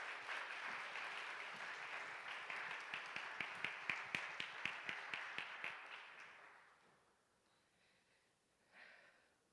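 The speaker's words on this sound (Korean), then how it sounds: "문현정 사모님 박수로 맞아주시길 바랍니다" An audience applauds to welcome a speaker at a church young adults' gathering: a faint wash of many hands clapping that swells, shows a run of sharper claps, then fades out, leaving near silence and a small stir.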